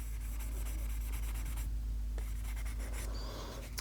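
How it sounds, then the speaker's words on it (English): Rust eraser rubbed back and forth on the blade of a Geib curved grooming shear: a continuous close-up scratchy rasping friction with brief pauses and changes in stroke, loud and steady with no talk. "Rust eraser, we sell these"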